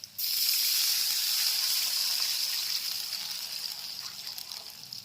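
Water pours steadily into a hot pan of tempered curry leaves, a broad hissing rush with sizzling that starts abruptly and slowly eases off, with no voices.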